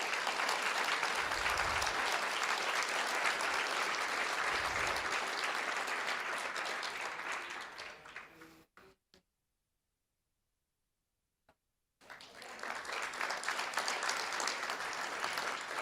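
A school board meeting audience claps for state track medalists: steady, full applause that fades out, drops to complete silence for a few seconds, then resumes abruptly.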